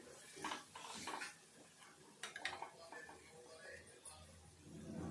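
Spoon scraping and clinking in a pan while spinach onion curry is stirred with dried red chillies, a few close metallic scrapes under speech.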